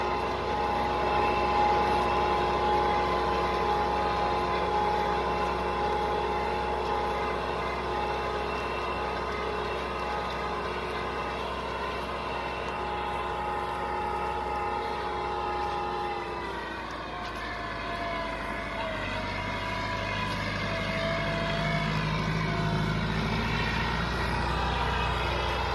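A 2010 Massey Ferguson 385 tractor pulls an 18-plate disc harrow through a corn field, its engine a loud, steady, close drone with a strong tonal hum that shifts lower and rougher partway through. No one speaks.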